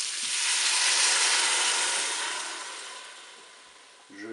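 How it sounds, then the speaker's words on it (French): Broth being poured over tagliatelle in a Cookeo electric pressure cooker makes a steady, bright rushing hiss that swells and then tapers off, ending with a brief clunk. "Je vais verser mon bouillon."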